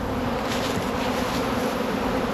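Steady, dense buzzing of many bees piled at a hive entrance, humming together close by, continuous with no pauses and no voices.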